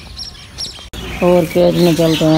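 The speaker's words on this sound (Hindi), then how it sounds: "इधर बहुत ही छोटी सी चिड़िया फिंच की तरह बोल रही है" A very small finch-like bird near a cage chirps in a quick series of bright, close, loud calls. Someone speaks briefly just before the calls begin.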